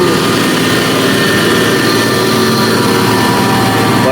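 Hino 500 truck engine labouring up the Sungai Karas hill climb, a loud, steady diesel roar with broad rumble and hiss that holds constant throughout.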